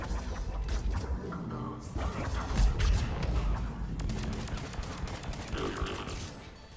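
Rapid, overlapping bursts of shotgun fire from Rampart mechs in Mass Effect 3, crackling densely and loudly with no pauses, the blasts blending into a steady barrage of gunfire.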